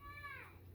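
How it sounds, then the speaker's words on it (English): Children at home holler to one another in the background, a short burst of high, raised young voices over a steady low indoor hum. "And my children are hollering for each other."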